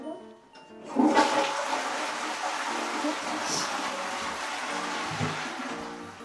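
A toilet flushes with a loud rush of very cold water that swells and then drains steadily for several seconds, close by, at a lodge on the Everest Base Camp trek in Nepal.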